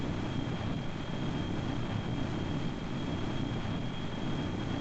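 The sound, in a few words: airplane taking off in Kerbal Space Program, video game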